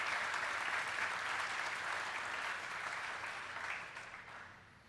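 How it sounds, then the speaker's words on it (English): A crowd claps in a sustained, even round of applause at a college chapel service, tapering off near the end, heard from some distance. "Let's give him a round of applause."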